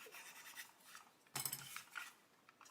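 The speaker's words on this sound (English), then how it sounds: "all I'm doing is just sanding the edges" Soft, quiet rasping strokes of sanding decal edges on a 1/35 scale Ju 87 Stuka model up close, in short intermittent passes with a slightly louder scrape midway.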